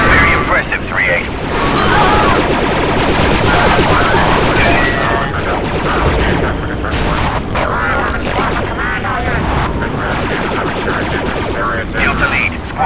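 Dense gunfire and grenade blasts from a Star Wars Republic Commando battle, a loud continuous barrage with bursts and booms layered together, with game voices talking over the combat.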